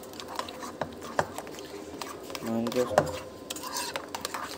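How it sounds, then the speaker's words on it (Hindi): A mayo garlic sauce being stirred and mixed in a bowl, with close clinks of a utensil against the bowl and soft wet scraping, a few sharper taps standing out, and a faint voice in the background. "अब हमें इसको अच्छे तरीके से मिलाना है"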